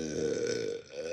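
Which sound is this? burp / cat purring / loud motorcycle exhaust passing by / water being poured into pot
burp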